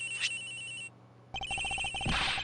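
A cell phone rings from inside a locker in a courtroom-investigation video game, its electronic ringtone repeating in steady bursts, pausing briefly, then resuming louder with a rising chime.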